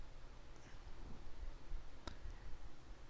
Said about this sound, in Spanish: Y hacemos clic